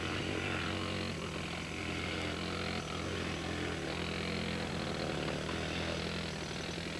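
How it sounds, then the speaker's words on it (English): Pneumatic air hammers break out big pieces of ice at a rescue scene, a dense continuous mechanical roar and rattle that runs steadily throughout, loud and unbroken. "With the air hammers, they could break out big pieces of ice."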